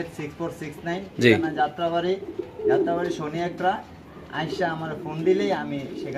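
Low pigeon cooing murmurs in the background beneath a person talking almost continuously.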